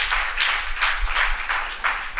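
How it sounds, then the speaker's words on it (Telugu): A church congregation claps together in praise, loud and close, a steady rhythmic beat of about two claps a second with no talk over it. "ఒకసారి చప్పట్లు కొట్టి దేవుని స్తుతి"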